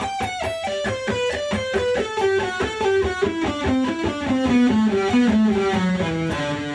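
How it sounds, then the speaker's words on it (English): Distorted electric guitar runs a fast, even stream of alternate-picked notes, descending steadily in a repeating pattern. "This is a really good beginning alternate picking lick"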